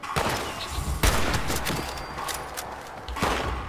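Bursts of gunfire in the video game Fallout 76, several sharp shots and rapid volleys in quick succession, loud and close.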